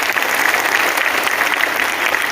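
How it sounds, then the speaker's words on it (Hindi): A crowd at a rally applauds the speakers with loud, close, continuous clapping that stays even throughout, with no voices over it. "तो मैं आप दोनों के ही लिए एक बार तालियां बजाना चाहती हूँ कि अपने अपने जोरदार तालियां बजाइए।"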